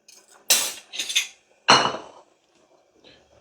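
Hot pappardelle pasta goes into a dish in a few quick bursts of clinking, scraping utensil-on-dish contact with short pauses between, close and fairly loud.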